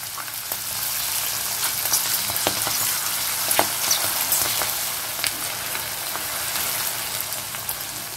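Peas and ginger paste sizzle in hot oil in a pan while Bengali-style peas pulao is cooked, a steady bright frying hiss with scattered pops and crackles, close and alone, no talking.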